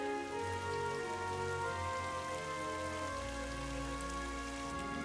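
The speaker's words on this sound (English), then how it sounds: "Mumfie suddenly noticed where all the rain was landing" Steady rain falls on a flower bed in a gentle, even patter, soft and continuous, with a low tonal hum running beneath it and no voices.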